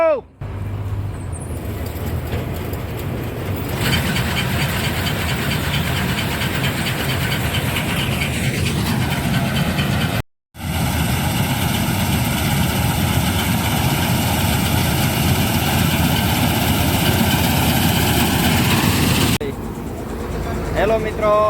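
A combine harvester's heavy engine drones loudly and continuously at close range in a soybean field, with a brief cutout midway and a steady mechanical whine over the rumble.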